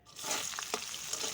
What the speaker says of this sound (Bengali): অবশেষে বলক চলে এসেছে।